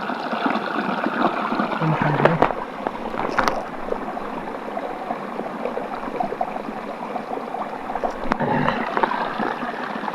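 A small forest stream in Nepal gurgles and trickles steadily at close range, with a few brief knocks and rustles over the water.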